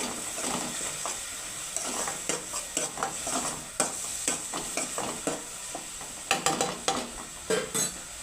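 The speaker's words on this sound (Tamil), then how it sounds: "இஞ்சி பூண்டு பேஸ்ட்டு போட்டுக்கலாம் அதையும் நல்லா வதக்கிக்கலாம்" Ginger garlic paste sautés in a pan for paneer gravy, a steady soft sizzle broken by irregular scraping and clinking stirs that grow sharper and more frequent toward the end.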